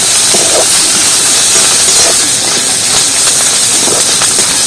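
Ginger, garlic and onion spice paste fries with salt in a pan, giving a steady, loud hiss and sizzle that runs unbroken throughout, with no talking.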